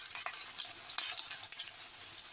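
Onions frying in a pan for a pork giniling dish with potatoes and carrots, a steady soft sizzle with small crackles and stirring sounds, fairly quiet and with no talking.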